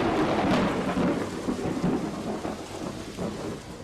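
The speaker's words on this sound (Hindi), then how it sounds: "लेकिन जवाब की जगह सुनाई दे रही है तो बिजली की बेरहम आवाज।" Thunder rumbling through heavy monsoon rain in Tamil Nadu's Cuddalore district, a dense, continuous roar of downpour with deep rolling thunder swelling and fading, no voices present.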